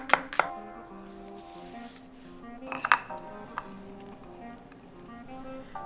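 Knife finely chopping a shallot on a board, heard as a few faint, sharp taps spread across the stretch with quiet kitchen clinks and ringing in between, close but soft, with no talking.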